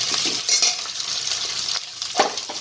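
Sliced onion, carrot, capsicum and cabbage stir-fry for street-style chow mein noodles on a high flame. The hiss is bright and steady, with a couple of quick tossing scrapes over about three seconds and no voices.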